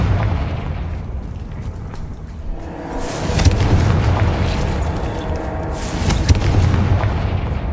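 In Hogwarts Legacy, the Confringo blasting curse goes off as heavy booming explosions, with one big burst and then a second roaring blast a few seconds later that rumbles on loudly.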